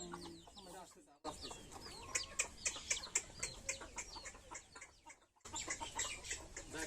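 Domestic chickens of a new native breed cluck and call repeatedly in a lively flock at close range, with a brief pause and faint voices in the background.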